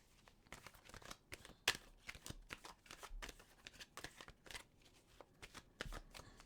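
Tarot cards are shuffled and handled up close, with quiet flicking, riffling and sliding bursts in an irregular rhythm and no talk.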